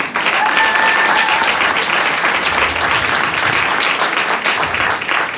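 Audience at a quarterly staff meeting gives the lab team loud, sustained applause, dense, close clapping holding steady from start to finish.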